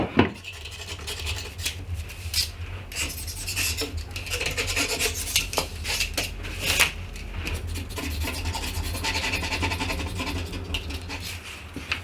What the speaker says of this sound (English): I can take it out of the clamps and just sand down the edges.